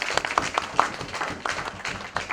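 At a press conference, a modest audience gives light, scattered applause, with individual claps standing out over a soft background of clapping that continues throughout.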